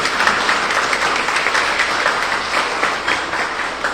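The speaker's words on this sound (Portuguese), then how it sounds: "aplausos para essas atrizes" Audience applause for young actresses after a short skit at a spiritual talk, a lively, even patter of many hands clapping, fairly close and loud throughout.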